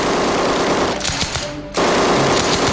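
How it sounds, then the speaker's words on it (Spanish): Sustained machine gun fire in a ferocious firefight between SAS soldiers and German troops, loud and dense bursts that briefly thin out before resuming at full intensity, with no voices. "Al cabo de 4 feroces horas de intercambio de disparos"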